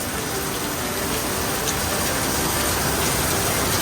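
Heavy rain or water pouring down in a steady, loud downpour on a farm, a dense continuous rush lasting the whole stretch with no voices over it.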